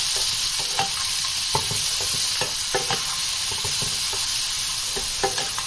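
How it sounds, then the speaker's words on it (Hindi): Chickpeas simmering on a low flame in a spice masala with black pepper and cumin powder, a steady close hiss with scattered scraping stirs across it, no voices. "मैं इसको चनों को इसमें अच्छे से पकाऊंगी"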